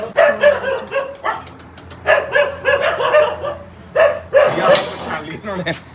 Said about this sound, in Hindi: अब भी भौंक रहा है